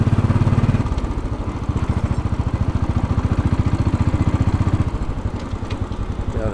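A Royal Enfield Bullet 500 single-cylinder motorcycle riding along Fifth Avenue in New York City, its engine thumping in a fast, even pulse that holds steady throughout with a brief shift in pitch near the start.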